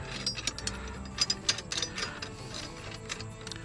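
A ratchet tool clicks in short, uneven bursts while parts are tightened during fitting of external lights on a van, close and fairly quiet with no talking.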